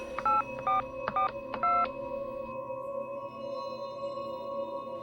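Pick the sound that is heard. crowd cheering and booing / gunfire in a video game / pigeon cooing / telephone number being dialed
telephone number being dialed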